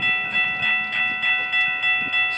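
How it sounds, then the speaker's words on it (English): A southbound Brightline passenger train passes close by in downtown Melbourne, Florida, its steady loud tonal hum pulsing with a regular wheel rhythm over the rails. "We got another unknown BLF Brightline train."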